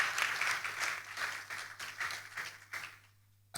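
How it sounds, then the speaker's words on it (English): An audience applauds to welcome a moderator at a business conference, a moderate burst of clapping from a crowd that fades out over a few seconds, with no talking. "Can we please welcome her with a resounding applause as well?"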